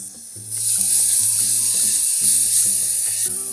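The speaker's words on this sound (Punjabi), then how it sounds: "ਇਹਨੂੰ ਨਾ ਹੁਣ ਗੈਸ ਦੀ ਸਿਮ ਫਲੇਮ ਤੇ ਆਪਾਂ ਥੋੜਾ ਜਿਹਾ ਭੁੰਨ ਲੈਣਾ" Loud, steady sizzling hiss of a green chilli, garlic, ginger, pomegranate seed and cumin paste frying in hot oil on a gas stove, close up, with a low droning hum underneath and no talking.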